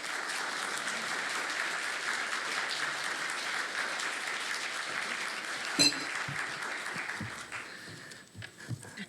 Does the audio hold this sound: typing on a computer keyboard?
no